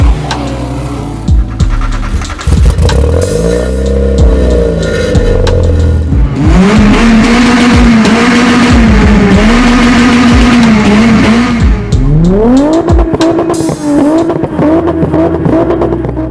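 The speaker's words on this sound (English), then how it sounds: "A new VW is here. Go, Volkswagen Compact." Volkswagen Golf compact car driving hard, its engine loudly revving up and down through repeated rising and falling pitch sweeps, with brief tire squeal, sustained and close throughout.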